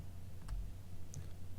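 Keys are pressed on a TI-30XS MultiView calculator while a polynomial is typed in, giving a couple of faint, close plastic clicks against low steady background hum.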